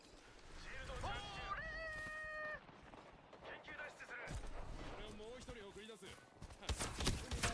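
A cat on a desk lets out a loud, drawn-out meow near the start, followed by further softer cat cries mixed with game sounds and thumps.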